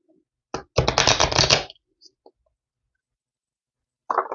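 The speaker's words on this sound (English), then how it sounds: "One more shuffle here with this deck" A deck of cards is riffle-shuffled up close in one quick burst of fluttering snaps, then a couple of soft taps and a short second flutter.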